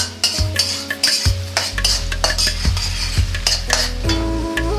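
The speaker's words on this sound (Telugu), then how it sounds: "ఉల్లిపాయ యాడ్ చేసిన తర్వాత ఒక 2 నిమిషాల పాటు అలా వేగనివ్వండి." Onions fry in a pan for Rayalaseema uggani bajji, a steady close sizzle broken by repeated scraping and clinking as a metal spoon stirs them against the pan.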